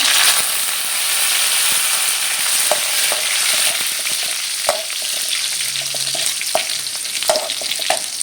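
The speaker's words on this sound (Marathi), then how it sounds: "त्यानंतर आपण लसूण टाकणार आहोत नंतर कढीपत्ता" Garlic and curry leaves fry in hot oil with cumin for a cabbage and capsicum sabzi, giving a loud continuous close sizzle broken by scattered clicks and taps of a spatula, without talk.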